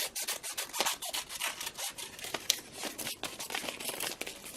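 Scissors trim a fabric shape for free-motion embroidery, a quiet run of rapid rustling snips and rubbing, close and uneven in rhythm with no talk.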